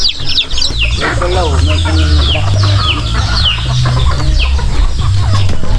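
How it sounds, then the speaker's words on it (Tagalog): Chickens and turkeys cluck and chatter busily up close on a farm, a flock of overlapping calls with a low hum underneath. "Yan yung pabo at manok na pinagsama-sama."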